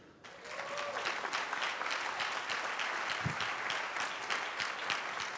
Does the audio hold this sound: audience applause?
yes